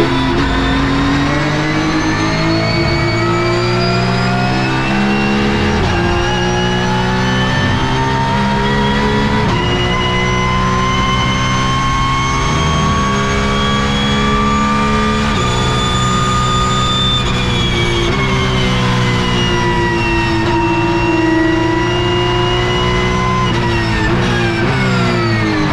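Porsche Cup race cars at TT Assen, engines roaring loud and continuous with rising and falling pitch through gear changes and overtakes, heard from close onboard position.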